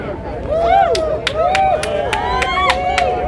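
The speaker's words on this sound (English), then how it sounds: "make a round of applause for Jay" Applause at a Seattle rally and counter-protest: a handful of scattered, sharp claps in a steady rhythm under a loud, close voice talking.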